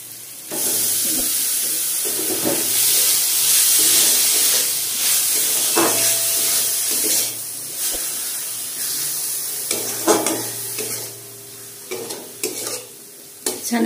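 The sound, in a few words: chhana frying with spices in pan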